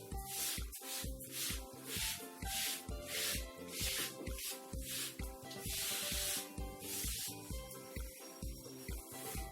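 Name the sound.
rubbing writing off a board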